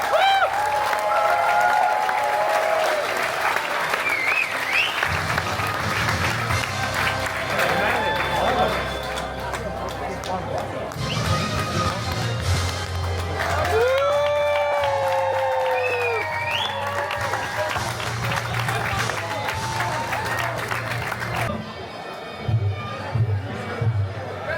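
Crowd at a Muay Thai fight applauding and cheering, a steady dense roar of clapping and shouts throughout, with whoops and voices rising above it and an announcer-like voice over the noise.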